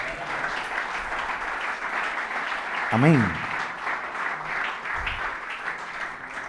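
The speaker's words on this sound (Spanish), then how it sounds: "¿Quieren un aplauso al Señor?" Congregation applause at a Catholic priests' gathering in Colombia, steady moderate clapping throughout, with a single spoken response from a voice partway through.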